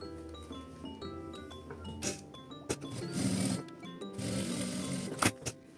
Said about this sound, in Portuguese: E aí é só passar uma costura de segurança bem na pontinha